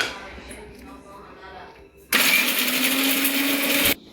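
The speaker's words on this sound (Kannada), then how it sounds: "ಈಗ ಬಾದಾಮು ಮಿಕ್ಸರ್ನಾಗ ಹಾಕಬೇಕು." A kitchen mixer grinder grinding almonds roars steadily for nearly two seconds, then cuts off abruptly, following a stretch of quieter talking and handling noise.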